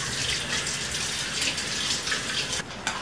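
Tomatoes are rinsed under running tap water at a kitchen sink, a steady, loud, close splashing gush that continues the whole time, with no talking.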